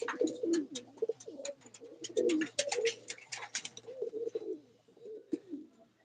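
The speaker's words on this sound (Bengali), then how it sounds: "কোন পায়রাটা কথা বলছিস জিৎ" Pigeons cooing close by in a continuous, rolling series of low coos, with some clicking and rustling mixed in.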